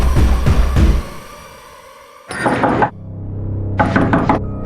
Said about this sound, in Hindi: स्टोर रूम का दरवाजा क्यों खटखटा रही है?